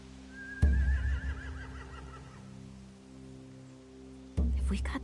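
A horse's wavering whinny in The Walking Dead video game rises over a low steady hum, followed by heavy thumps, fairly close and loud.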